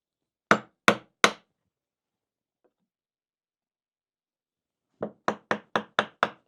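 Hand chisel chopping out waste for inlaid dovetails, struck by a mallet: three sharp, close knocks, a long pause, then a quicker run of six crisp strikes, with no talking.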